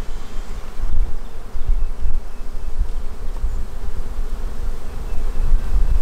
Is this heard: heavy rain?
no